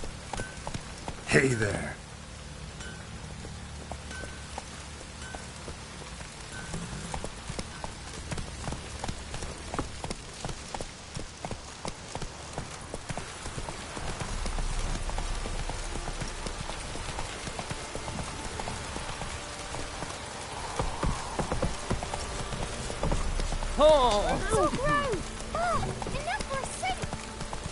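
Roach, Geralt's horse in The Witcher 3, gallops with steady clip-clopping hooves against a rain-like patter, while a voice speaks briefly over the game sound.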